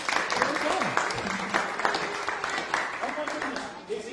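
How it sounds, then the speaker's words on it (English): A church congregation at an Advent Sunday all-age service gives a round of applause, a sustained, moderately loud patter of many hands, with a voice speaking over the clapping. "we're going to give you a round of applause"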